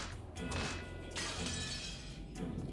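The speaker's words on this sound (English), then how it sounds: "The glass smashed with a violent sound and the frame groaned and creaked." Glass window smashing in the Umineko video game, with bursts of shattering and crashing debris over a steady low background hum, fairly quiet overall and with no voices.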